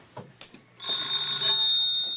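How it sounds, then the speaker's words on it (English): After a few faint knocks, a doorbell rings continuously with a shrill, steady metallic trill, moderately loud in a quiet room. "He'll be ringing the bell any moment now."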